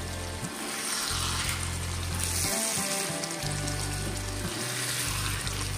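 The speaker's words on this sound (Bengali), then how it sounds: "এবার আমি এটা ভালো করে কষাবো।" Ginger, garlic, tomato, chilli and cumin paste sautéing in a pan, a loud continuous sizzle and bubbling hiss, with deep rumbling bursts coming and going.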